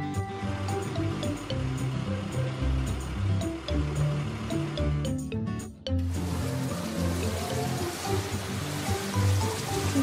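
Cartoon water splashing and pouring while sandy toys are washed, a steady rushing wash with a brief dip partway through, moderately loud and mostly alone.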